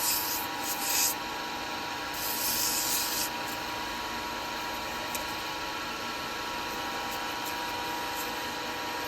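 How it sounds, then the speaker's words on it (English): Continuous soft rubbing and scratching of abrasive oil sanding a turned wooden bird feeder, steady and close, with a few slightly louder strokes near the start. "So now I'm going to do a little bit of oil sanding in here."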